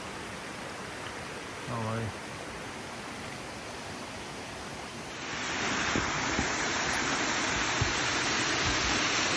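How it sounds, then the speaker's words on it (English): Rushing water from a small waterfall into a pool on the Cascades Walking Trail, New England National Park, NSW, a steady broadband hiss that grows louder midway; a single short greeting is spoken early on. "There's a little waterfall and a pool."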